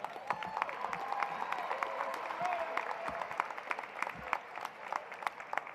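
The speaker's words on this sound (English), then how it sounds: "How about a round of applause for that cheerleading squad?" A crowd applauds a cheerleading squad at a university new-student convocation, steady dense clapping with a few louder individual claps sustained throughout, with faint voices underneath.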